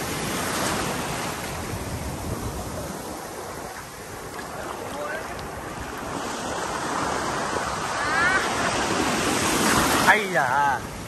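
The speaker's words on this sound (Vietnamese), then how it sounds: "Nhưng mà sóng bạc rồi." Ocean surf rolls and breaks continuously at My Khe beach in Da Nang, a steady broadband wash that swells louder toward the end, with wind and voices of people talking over it now and then.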